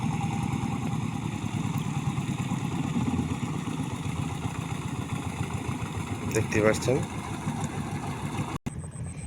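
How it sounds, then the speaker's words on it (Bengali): A fishing boat engine runs on a river, a steady mid-pitched chugging drone held close throughout, with someone talking over it. "ওই যে একটা মাছের নৌকা আসলো,"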